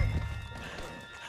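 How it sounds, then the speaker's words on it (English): Horse in Red Dead Redemption 2 giving a brief snort or whinny with hoof clatter, short and close at the start, then fading into low ambient noise. "Put Strauss on the back of John's horse, and let's get out of here."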